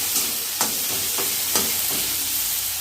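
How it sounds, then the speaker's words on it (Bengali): Chopped tomato frying with garlic in a pan for an egg and pea curry, a soft continuous sizzle broken by a few distinct stirring scrapes, close and with no talking. "টমেটোটাও একটু 1 মিনিট একটু এর সঙ্গে ভাজা ভাজা করব"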